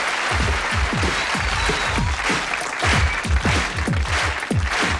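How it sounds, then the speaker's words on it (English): A television studio audience claps along, the many hands falling into a loose, punchy rhythm with crisp individual claps ringing close amid a busy, crowded room. "All right, everybody clap."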